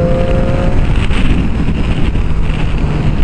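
A motorcycle held in sixth gear pulls up a hill under open throttle, a loud, steady low engine drone buffeted by heavy wind rush across the microphone.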